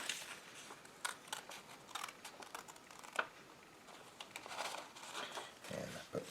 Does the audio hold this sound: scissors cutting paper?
yes